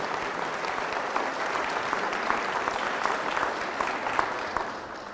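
A church congregation claps steadily and loudly for several seconds at a Catholic healing service, a dense continuous patter of many hands with no voices over it.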